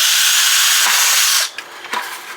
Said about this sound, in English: We're going to take and drill right about here.